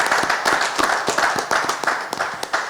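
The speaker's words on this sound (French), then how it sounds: "Applaudissez pour lui également." Audience applause at a 50th-anniversary celebration for a Congolese music group, a smaller crowd clapping in an uneven rhythm with distinct individual hand claps, close and clear.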